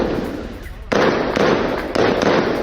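Sharp repeated bangs of gunfire during a street clash between IDF soldiers and Palestinians in Ramallah, several loud cracks at irregular intervals over a dense, noisy background.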